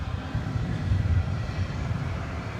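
Airbus A319 airliner from 2002 at DFW Airport at night, a steady low jet rumble and roar, moderately loud and unbroken throughout, with no voices.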